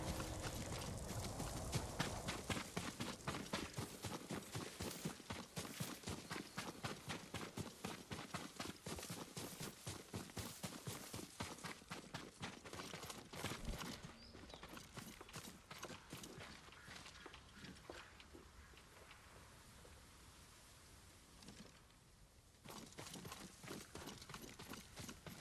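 Horse hooves in Ghost of Tsushima, a fast, steady clip-clop at a gallop, close and loud at first, then slowing and softening toward the end.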